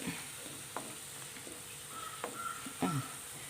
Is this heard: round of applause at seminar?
no